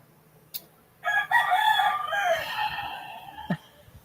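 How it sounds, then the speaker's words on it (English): Roosters crowing at midday in Angeles City, Philippines: one full, fairly close cock-a-doodle-doo lasting a couple of seconds, with a few faint background noises around it. "How come your roosters are crowing in midday?"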